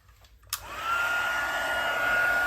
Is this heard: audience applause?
no